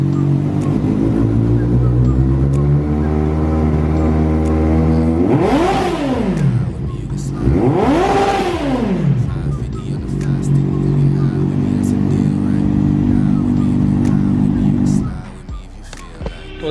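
A Kawasaki ZX-10R sport motorcycle engine idles steadily, then revs hard twice in quick succession with rising and falling whine, before settling back to idle and cutting off.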